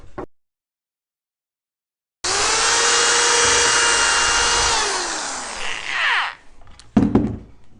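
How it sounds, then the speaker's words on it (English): A power drill bores holes into the ends of 2x10 wood boards for a hive bottom, one loud sustained whir that slows and fades, followed by a few clunks of handling. "we went ahead and drilled our holes into our 2x10 ends for the bottom"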